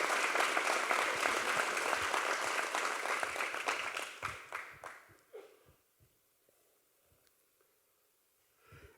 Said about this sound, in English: can we get another round of applause for those guys?